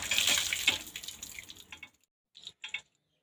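A dog's feeding plate is rinsed under water, a steady close splash and trickle that stops, followed by a few short separate splashes.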